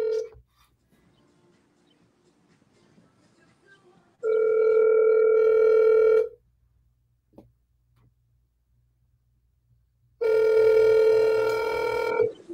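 A telephone ringback tone sounds on an outgoing call: two long, loud buzzing rings, each about two seconds, separated by a roughly four-second silence, with faint background hiss and a small click between them.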